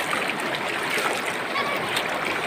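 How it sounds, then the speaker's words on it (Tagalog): Strong river current rushing over rocks at the Isap River in Bongabong, Mindoro, a dense continuous roar of churning water, close and steady throughout. "malakas yung current ng tubig"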